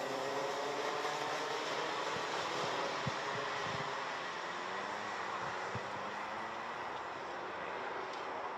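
A Mini Max racing kart engine drones loudly and steadily at a Genk kart race as the kart pulls away, with a few faint knocks and distant track noise.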